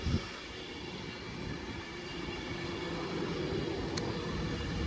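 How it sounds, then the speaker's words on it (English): An Avanti West Coast express train running late after a fault ahead pulls into Wigan North Western station, a steady rolling rumble of wheels and carriages that holds evenly throughout with no talk. "incoming is the delayed 1114 fast Avanti West Coast service for Bolton, Banky, London Euston, only from Glasgow Central"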